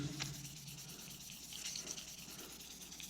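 Knife scales from a Victorinox knife being sanded by hand with 1200-grit sandpaper: a soft, steady rubbing scrape, quiet and close, running on without a break and with no speech.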